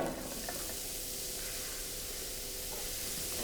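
Two cups of onions sauté in a little olive oil, giving a soft, steady, close-up sizzle that holds evenly throughout.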